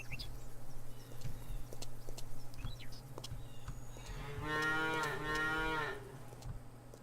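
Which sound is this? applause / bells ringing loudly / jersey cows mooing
jersey cows mooing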